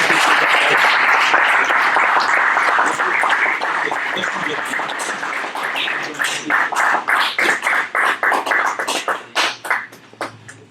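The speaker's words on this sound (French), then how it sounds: "On l'applaudit très fort, en tout cas." An audience at a conference debate gives loud, sustained applause that thins into scattered individual claps toward the end.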